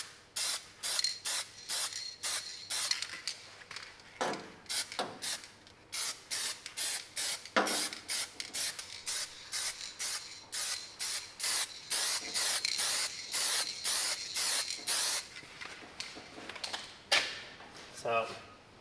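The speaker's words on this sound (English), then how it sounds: "I'm gonna put a little bit of clear coat on this." Clear coat hisses from an aerosol can in many short, sharp bursts, close by, with brief gaps between sprays and a faint rattle now and then.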